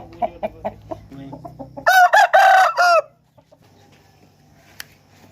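Aseel roosters give a string of short clucks, then a loud, close rooster crow in several bursts that stops abruptly, followed by quiet with faint background noise.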